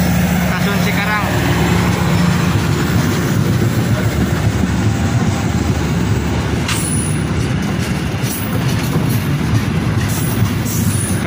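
The Serayu passenger train from Purwokerto to Pasar Senen rumbles loudly and continuously close by at Cikarang Station, wheels clattering on the rails with a brief squeal, as people talk over the noise.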